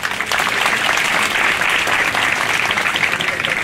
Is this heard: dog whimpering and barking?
no